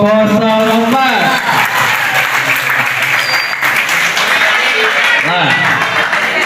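Sustained applause from a school audience fills the room for candidate number 04 during a student council election debate, steady and loud, with voices calling out briefly over the clapping at the start and near the end.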